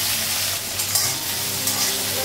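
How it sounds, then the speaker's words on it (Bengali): Eggplant frying in a pan of oil with green chili, giving a close, steady sizzle broken by faint stirring scrapes. "আর একটু বেগুনটা ভেজে দিয়েছি"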